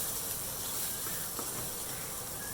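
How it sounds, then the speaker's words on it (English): A pan of chopped coconut roasts with an even, low hiss that holds steady throughout, close and quiet, with no talking. "Now roast it well until it turns like light brown."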